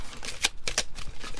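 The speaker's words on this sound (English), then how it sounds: "One more shuffle." Playing cards being shuffled by hand, a few quick riffling bursts in close succession, near and moderately loud with no talking.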